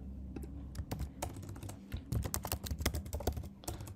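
Typing on a computer keyboard, close and quiet, with quick irregular clicks of individual keys coming in bursts, denser in the second half, with no voice.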